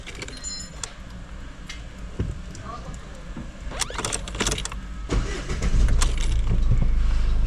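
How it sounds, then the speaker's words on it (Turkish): Ford Courier engine starting: a key jingles and clicks in the ignition, then the starter cranks and the engine catches, settling into a loud, steady idle close by. A voice is heard over the car sounds. "Ford Courier araçlarda kontağı açtık arkadaşlar. Çalıştırıyorum."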